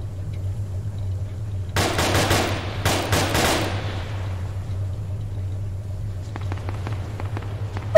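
Machine gun fire in a WW2 shooter video game, fired from a mounted big gun: two loud, close rapid-fire bursts, followed by fainter scattered shots over a low steady hum.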